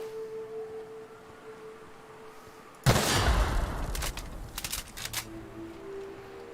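Gunfire from the player's weapon in The Outer Worlds, a sudden loud burst of rapid shots after a quiet tonal stretch, followed by a few sharp crackling reports.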